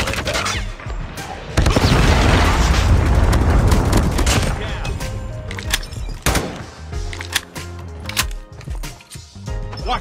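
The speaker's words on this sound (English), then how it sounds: "Friendly Predator missile inbound" A Predator missile strike in Call of Duty Mobile lands as a loud, sustained explosive roar that rumbles for a few seconds, then breaks into scattered gunfire bursts and thuds from the ongoing match.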